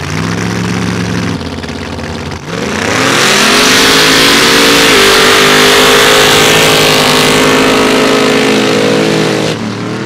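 A mud drag race car at the Valemount mud drags roars as it launches, its engine rising from a rough idle into a sustained loud, close revving run down the track before the note drops away at the end.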